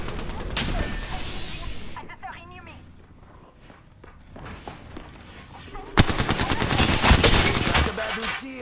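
Apex Legends gunfire comes in bursts, first a heavy stretch, then scattered game sounds and footsteps, then a loud, rapid volley of close shots, with talk over parts of it.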